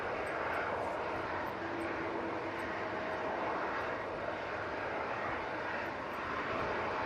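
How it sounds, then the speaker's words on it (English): A Ryanair Boeing 737 MAX 8 lands at Manchester Airport on a stormy day, giving a steady broadband jet roar that stays fairly even and moderately distant throughout. "do you have the Ryanair 737 MAX 8 coming in from Rome?"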